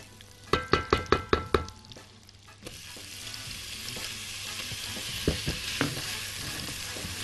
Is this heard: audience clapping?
no